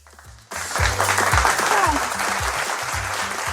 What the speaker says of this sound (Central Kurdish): من حەزەکەی چەپڵە بۆ مناڵانی هاوڕێم لێبین